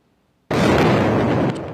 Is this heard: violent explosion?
yes